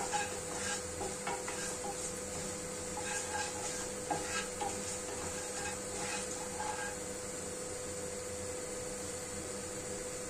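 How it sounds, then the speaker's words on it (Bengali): Cloves, cardamom, cinnamon and bay leaf crackle in hot oil as a spoon scrapes and stirs them in the pan. The scraping comes in scattered bursts over a low steady hum, close but fairly quiet, with no voices. "সব কিছু তেলে একটু নাড়াচাড়া করে ভেজে নেব।"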